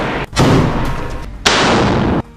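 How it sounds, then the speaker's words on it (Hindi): Loud, harsh bursts of rifle fire in combat footage from the Israel–Hamas fighting in Rafah come in rapid, crackling volleys with a brief gap between them. Close and dominant, with no speech. "सामने से भाग रहे इजरायली सैनिकों पर ताबड़तोड़ फायरिंग कर देता है।"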